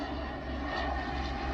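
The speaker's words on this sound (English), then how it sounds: "Oh, there's a Twin Otter." A de Havilland Twin Otter turboprop passes overhead above a river preserve campground, a steady loud propeller and engine drone filling the whole moment without letting up.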